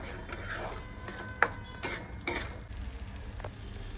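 Spiced matar paneer masala sautés in a pan, with a quiet frying hiss under several sharp clinks and scrapes of a spoon stirring against the metal.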